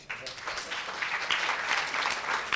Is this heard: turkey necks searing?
no